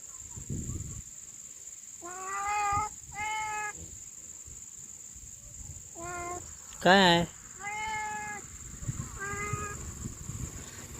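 A cat meows repeatedly, several drawn-out cries spaced a second or two apart, one sharper and louder, over a steady high whine and light background noise.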